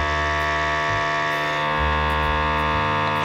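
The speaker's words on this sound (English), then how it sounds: "I'm just going to seal it. A little bit of vacuum on it." A vacuum sealer draws air from a bag of London broil beef with a steady electric motor hum. The hum is rich in overtones and its pitch shifts slightly a few times as the pump works.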